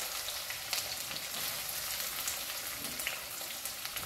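Chopped onions sizzle in hot oil in a pan, about 200 grams of them cooking for butter chicken, a steady loud hiss with faint crackles and no voices.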